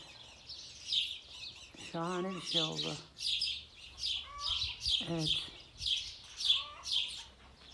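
Bright, repeated swallow chirps ring out in quick rhythmic bursts throughout as the birds build nests, while a person speaks briefly underneath.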